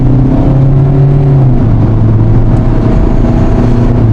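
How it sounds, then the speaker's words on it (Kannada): Heard from inside the cabin, a car engine under full throttle holds a loud, steady droning hum with a rising tone through the pull, and nobody talks over it. "Full throttle."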